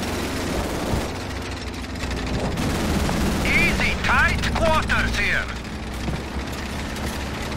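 Gunfire and machine-gun bursts in the Xbox 360 game Call of Duty 3 rattle continuously through a dense battle din with engine rumble, while soldiers shout commands over the shooting.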